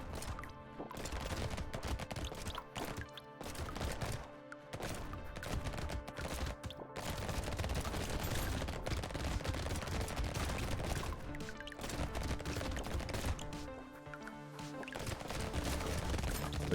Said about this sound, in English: Every time we pick up material, we're gonna be shooting the blunderbuss